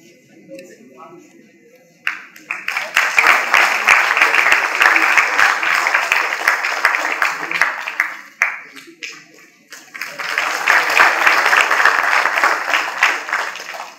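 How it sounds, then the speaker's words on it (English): Audience applause at an institute lecture series, two loud bursts of close clapping separated by a brief lull, with quiet murmuring before the first burst. "let's give our speaker a final round of applause"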